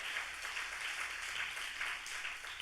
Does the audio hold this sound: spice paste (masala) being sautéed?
no